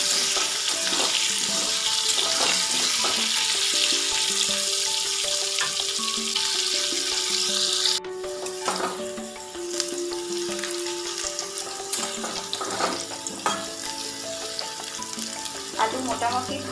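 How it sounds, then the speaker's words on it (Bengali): Potato pieces fry lightly with a little salt in a pan, a continuous bright sizzle with occasional stirring scrapes and clinks; the sizzle drops briefly partway through, then carries on more softly. "সামান্য একটু নুন দিয়ে এবার একটু হালকা করে ভেজে নেব।"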